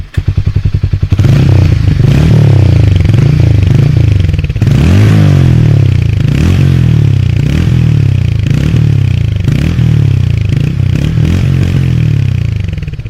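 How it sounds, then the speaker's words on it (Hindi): A Harley-Davidson X440 motorcycle engine rumbles loudly and steadily up close, with a deep thumping exhaust beat and occasional revs. "इसका ज़बरदस्त साउंड है बाइक का"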